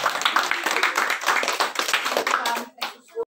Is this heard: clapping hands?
yes